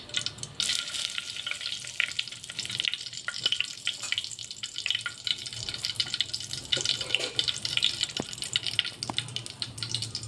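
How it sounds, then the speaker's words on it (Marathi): Bay leaves sizzling in two spoons of hot oil, a continuous crackling fry with scattered sharper pops, moderately quiet and steady throughout, without speech. "आता यामध्ये मी दोन चमच तेल टाकलेलं आहे या चमच्यानी आता इथे मी दोन तेजपान टाकणार आहे"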